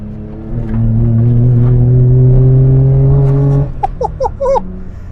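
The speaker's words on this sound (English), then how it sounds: "That is a lot of noise for a little car." The 989cc engine of a Daihatsu Handivan L700 revs hard and climbs in pitch for several seconds, then drops off into quick, choppy throttle blips and pops.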